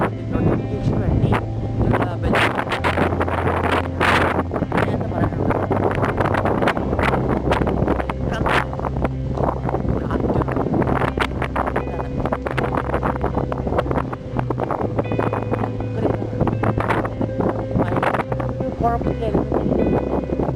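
Heavy wind in Fujairah buffets the microphone outside a car, a constant loud roaring rush throughout, with someone talking over it.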